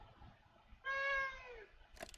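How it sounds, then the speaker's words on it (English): A single drawn-out meow from a loud pet cat named Alibaba, close by, in a horror game set in an abandoned toy factory. A faint click sounds just afterward. "Now you can hear the cats."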